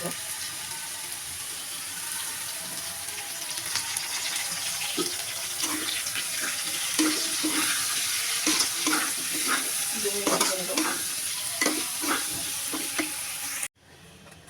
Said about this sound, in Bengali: এখন আমি পেঁয়াজটা দিয়ে ভালো আলুর সঙ্গে ভেজে